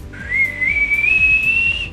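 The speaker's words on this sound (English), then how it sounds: "Can you whistle?" A single person whistles one sustained, slowly rising note for about two seconds, close and clear, with no speech.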